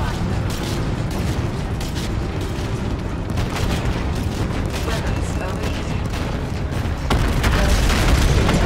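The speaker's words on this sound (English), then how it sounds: "Cool guys don't look at explosions." Explosions and heavy weapons fire in the video game Call of Duty Infinite Warfare during a space battle, with dense booms and rumbling blasts throughout and speech mixed in.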